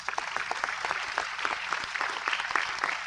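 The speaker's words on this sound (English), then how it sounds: "I think you can all give them a big round of applause" A round of applause from a conference audience at a global biodiversity gathering, crisp individual claps blending into a lively, moderately loud ovation that holds steady without speech.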